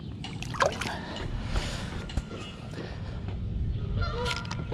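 Distant geese honk faintly across a lake over an open outdoor ambience with wind and water noise, calls scattered and far off.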